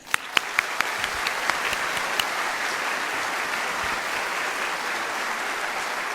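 An audience at a spiritist talk applauds to welcome the speaker, a dense, continuous wash of clapping at steady volume with a few sharper claps standing out near the start.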